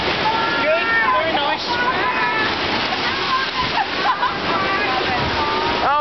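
Water rushes and splashes loudly on the Wild River water ride at Brighton Palace Pier, a continuous roar with voices and shouts mixed in.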